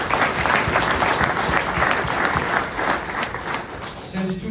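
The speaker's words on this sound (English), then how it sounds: "Let's give Eddie a round of applause." An audience at an honoring event for a plumbers' union business manager breaks into a dense round of clapping that carries on steadily for several seconds before beginning to thin out.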